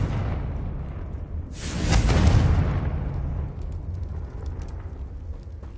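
A Confringo blasting spell bursts in a Hogwarts video game, one loud booming explosion that swells, then rumbles and fades into a dim catacomb ambience.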